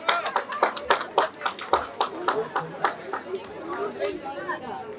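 A small crowd at a university convocation claps in quick, scattered bursts, the sharp hand claps standing out close and distinct over busy chatter and talking voices.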